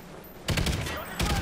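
Rapid bursts of automatic gunfire in the video game Call of Duty: Ghosts, two loud dense volleys with a short gap between them, heard up close.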